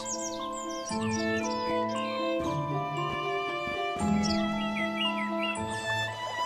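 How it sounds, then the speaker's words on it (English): Birds chirp and trill continuously, several songs overlapping over a steady tonal background, moderately loud and nearby. "You start to hear birds and see flowers."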